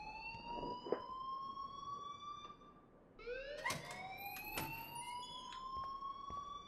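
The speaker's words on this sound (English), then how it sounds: "please turn off that alarm since that's your job." Electronic alarm in the video game Life is Strange, a steady rising and falling siren-like wail that drops briefly then resumes, sounding loud and continuous with no talk over it.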